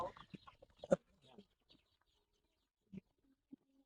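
A few short clucking calls from chickens and chicks with a rooster, close by, with brief speech at the start and quiet gaps between the calls.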